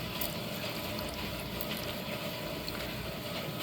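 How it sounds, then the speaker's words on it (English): Water pours steadily into a rock tumbler barrel during stage 3 of tumbling Crazy Lace agate, a continuous close splashing rush with no talk over it. "Now we're going to add our water."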